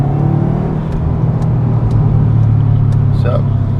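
A Subaru WRX engine with aftermarket exhaust drones loudly and steadily with a deep low rumble, holding a roughly even pitch throughout rather than climbing through sharp revs.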